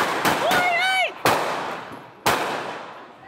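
Gunfire erupts during a car theft on a Belo Horizonte street, recorded from a residential window: a few sharp, loud shots spaced apart, echoing off buildings, with a whistling tone briefly between them.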